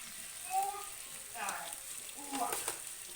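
Singhi fish frying in a pan gives a faint, steady sizzle with a few brief louder bursts of hissing and spattering, close but quiet, no talking over it.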